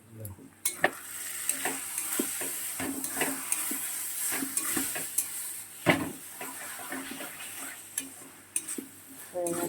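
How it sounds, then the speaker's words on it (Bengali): Cauliflower curry frying on low heat in a pan, a continuous sizzle broken by frequent sharp scrapes and clinks of a spoon stirring against the pan, close and alone. "এবারে তরকারিটা আস্তে আস্তে রান্না করব, গ্যাসটা একদম কম করে দিয়ে কষাবো"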